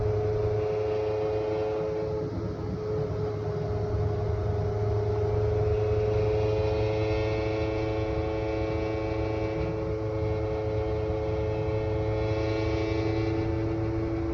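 A Honda CRX runs and drives with a steady, droning engine note and road noise that holds at a constant, fairly loud level throughout.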